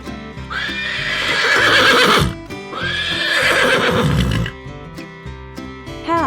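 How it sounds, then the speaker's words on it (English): Two loud, drawn-out whinnies from a farm horse ring out one after the other, with light background music trailing into the quieter end. "Horse."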